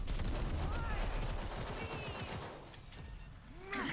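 Rapid gunfire exchanges in the video game Genshin Impact, a dense clatter of shots with other game effects that thins briefly near the end before picking back up.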